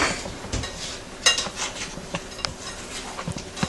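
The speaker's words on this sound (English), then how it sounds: "it says toss it around, which we are going to need a spatula or a spoon" Chopped baklava nuts being tossed in a bowl with a spatula or spoon, a run of irregular close scrapes and light clinks against the bowl, quiet and alone.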